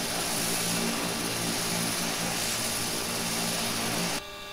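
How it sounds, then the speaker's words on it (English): An Embraer EMB-120 turboprop plane flies in a flight simulator game, giving a steady, dense propeller and engine drone that cuts off abruptly near the end. "I'm flying a new plane and stuff."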